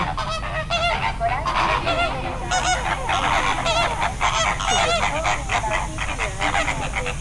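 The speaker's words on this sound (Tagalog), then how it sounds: "Wow! A big bird! A big bird! Flamingo!" Flamingos at a zoo in Taiwan honk loudly and continuously, a dense overlapping flock chorus of nasal calls close by with no talk.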